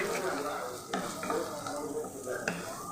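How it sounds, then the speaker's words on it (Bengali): Onions with green chilies sauté in a pan, a steady sizzle broken by a few sharp clinks and scrapes of a spoon stirring. "এই যে পেঁয়াজটা আমি ভালোভাবে সতে করে নিলাম যাতে গন্ধটা চলে যায়।"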